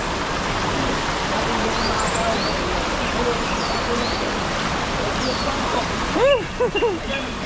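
Loud, continuous rush of strongly flowing river water fills the clip, with a few bird chirps near the end.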